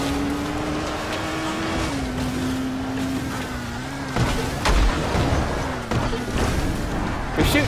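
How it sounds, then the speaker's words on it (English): In the video game Dying Light: The Following, a car drives across a field, its engine holding a steady droning hum with shifting pitch while bumps and impacts thud through the rough ride. "let's drive across this field"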